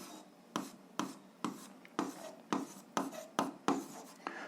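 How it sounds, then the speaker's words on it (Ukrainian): Pen writing by hand on paper while working an algebra exercise, a quiet close series of short scratchy strokes in an irregular rhythm, about ten bursts with brief pauses between them. "Записуємо, що це точка. Пишемо тоді тут."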